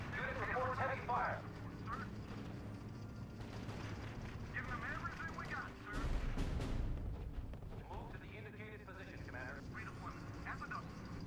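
Heavy battlefield fire in the strategy game RUSE: distant artillery thuds and machine-gun bursts rumble under a voice, with a sharp heavy blast near the middle.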